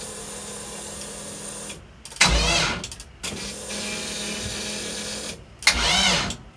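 The V8 engine of a WRX cranks twice on a drained battery, each attempt a short, loud, sputtering starter whirr that fails to catch, with a steady background hum between them.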